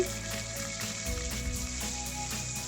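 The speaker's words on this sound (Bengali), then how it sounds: "এবার একটি হাঁডির মধ্যে আমি পরিমাণ মতো তেল দিয়ে দিচ্ছি। দিয়ে আমার রসুন আমি এর মধ্যে দিয়ে দিচ্ছি" Garlic fries in hot oil in a cooking pot, giving a steady close sizzle with a low bubbling rumble that thickens partway through, with no voices.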